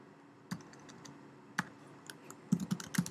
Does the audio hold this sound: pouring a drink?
no